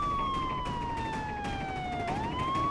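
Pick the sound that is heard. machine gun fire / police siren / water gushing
police siren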